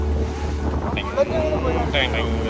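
Steady wind roar and rushing water surround a boat pitching through waves into a headwind on the trip to Bangaram Island snorkelling, with a few brief splashes and a faint voice underneath.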